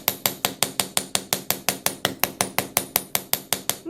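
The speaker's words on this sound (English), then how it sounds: "I'm going to hammer just a little bit more." A metal hammer strikes silver wire links in rapid, evenly spaced blows, about five per second for four seconds, each hit a bright close ringing tap with no talking.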